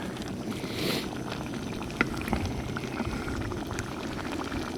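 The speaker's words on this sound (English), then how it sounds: "So we just want to simmer on that." Lamb curry sauce simmering in a pan on a Trangia 27 spirit stove outdoors, a steady low bubbling hiss throughout with a few small clicks and pops.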